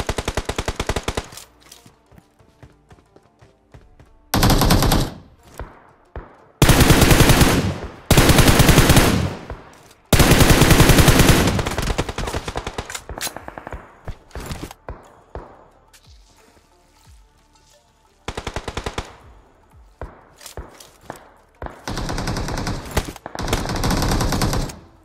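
Bursts of automatic gunfire crack in a close-range squad fight in a mobile battle-royale shooter, with several long loud volleys and shorter rapid strings of shots separated by quieter gaps.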